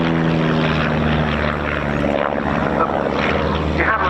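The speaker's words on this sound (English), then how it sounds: "The Chipmunk was always a super display aeroplane as they come in for a crossover." A de Havilland Chipmunk propeller plane flies past at an RAF air show, its piston engine droning steadily and loudly throughout with a continuous buzzing hum.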